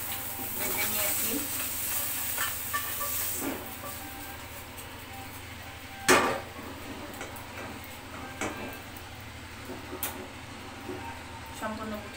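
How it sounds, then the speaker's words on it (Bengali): Whole puti fish fry in oil with a steady, soft hiss and sizzle that runs throughout, broken by a few sharp clinks and taps of a utensil against the pan. "সম্পূর্ণ পুঁটি মাছটা আমি তেলের উপর ভেজে নিলাম"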